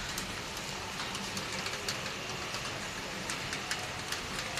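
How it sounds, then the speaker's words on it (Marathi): Steady, dense downpour of heavy rain hissing continuously, with occasional sharper drip spatters; no voices. "पाऊस किती पडतोय, किती मोठा पाऊस पडतोय बघा आमच्या इकडं."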